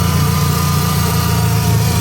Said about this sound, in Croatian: Motor od Minija.